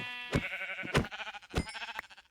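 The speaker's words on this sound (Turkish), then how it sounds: "Şuradan bir koyun keseyim." Sheep in the Minecraft video game bleat repeatedly as one is punched to death, several loud wavering bleats following one another closely, with no talking over them.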